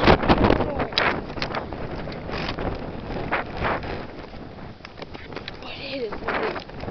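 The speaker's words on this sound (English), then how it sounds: "It is windy." Strong thunderstorm wind in High Point, North Carolina, roars and gusts against the microphone in a continuous, loud rush with rustling bursts. People talk over it throughout.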